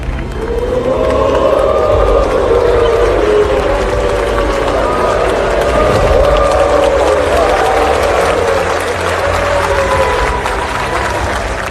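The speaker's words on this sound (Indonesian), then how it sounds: "terdengar suara sorakan hu dari peserta sidang yang juga disertai tepukan tangan" An assembly session crowd booing and clapping, a loud, continuous roar of voices with sustained jeering tones over a dense bed of crowd noise and clapping, close and unbroken from start to finish.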